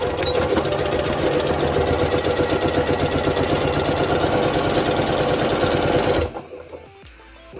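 Sewing machine running steadily along the seam of a zippered pouch, a fast continuous mechanical stitching drone that stops abruptly near the end, leaving quiet handling noise.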